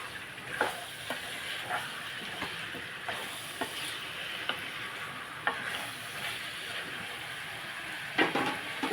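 Tomato and potato curry stirred in a pan, a continuous soft sizzle under repeated scraping taps from the spoon, fairly close with no speech.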